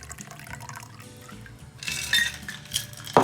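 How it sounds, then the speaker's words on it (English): A Manhattan cocktail is poured from a shaker into a martini glass, a soft liquid trickle building up with a few glassy clinks and a sharp clink at the end, close and alone without talk. "Now we're gonna pour it into the martini glass."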